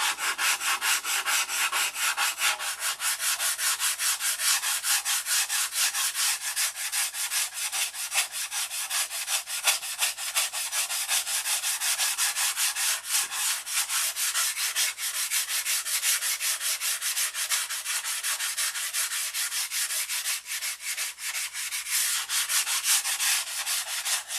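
Sandpaper worked by hand over a surface, giving a steady, continuous rasping rub that stays loud and close for the whole stretch with no voices.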